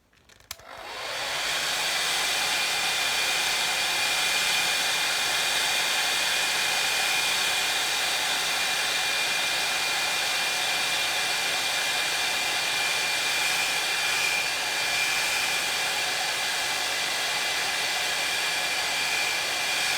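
A hair dryer blows steadily and loudly over wet watercolour paint on a painting of eyes, starting up at once and then running alone as a continuous whoosh.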